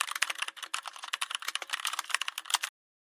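Rapid, steady typing on a computer keyboard, dense clicking keystrokes running close and alone for nearly three seconds before stopping abruptly.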